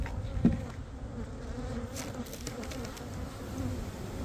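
Steady, dense buzzing of many honeybees close by at a hive, a continuous low hum with a brief louder swell near the start.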